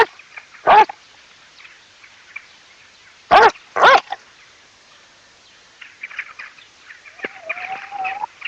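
A dog gives one bark, then two more in quick succession a few seconds later, loud and fairly close, with faint bird chirps and other small sounds in the quiet gaps.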